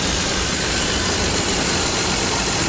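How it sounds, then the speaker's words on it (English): A car engine with three coils and a faulty plug wire idles roughly from a cylinder misfire, giving a loud, steady, close-up rumbling drone with no pauses. "let's start the vehicle up and see exactly what's going on"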